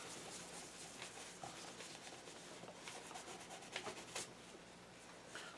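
Knife blade being rubbed firmly to clean it during knife maintenance, a soft continuous scratchy rasp with faint repeated strokes, quiet and close, no talk.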